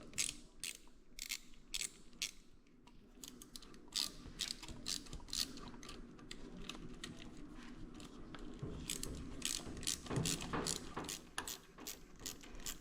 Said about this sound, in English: I am going to tighten this clamp up